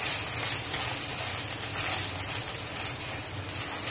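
Grated fresh coconut roasting in oil in a pan for homemade sambhar masala, a steady soft sizzle and hiss that holds even and continuous throughout.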